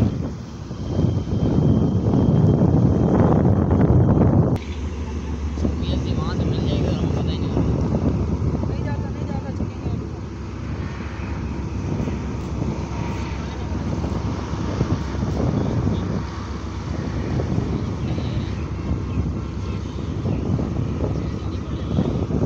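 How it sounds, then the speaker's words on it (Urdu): Wind buffets the microphone at Dhabeji railway station near Karachi, a loud rumbling gust at first that settles into a steady blustery roar. Someone speaks over it at times. "ہوا چل رہی ہے"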